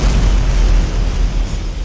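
A fire-breathing dragon's explosion as a story sound effect: a loud, sustained, rumbling blast that fills the whole moment, deep and heavy with a roaring wash on top, heard alone.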